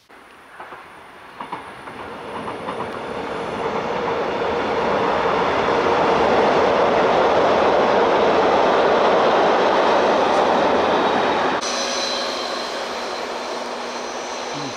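Train passing on the Donautalbahn, a steady rumbling roar that swells to a peak around the middle and then eases, heard outdoors from trackside with a faint aircraft drone in the sky, no voices.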